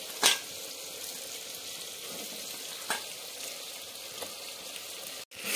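Chicken pieces sizzling as they go into spiced masala in a handi pot, a steady close frying hiss with a few sharp clatters and stirring knocks, no voices.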